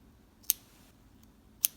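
Scissors snipping crochet yarn: two quick, crisp snips about a second apart, close and fairly quiet against a still background.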